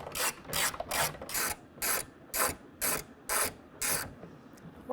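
Ratchet clicking in eight short, evenly spaced bursts while bolts come off the deck rail system of a 2022 Toyota Tundra, close and fairly quiet with brief pauses between strokes.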